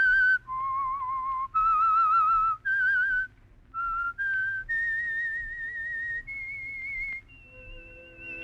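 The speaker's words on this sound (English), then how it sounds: "Let that whistle be your signal" Someone whistles a short, clear melody of held notes, close and steady, with a faint low hum underneath.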